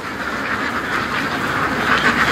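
A dense flock of ducks quacks continuously around someone walking among them, a loud, steady chorus of overlapping calls with no talk.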